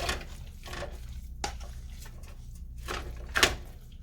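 A pan is shifted and a stuffed-pepper mixture scraped into it during cooking, a few separate clanks and scrapes, one sharp metallic knock near the end, close and moderately quiet.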